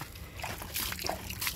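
Water poured and splashing for bathing at home, brief sloshing splashes in short bursts, fairly faint and close.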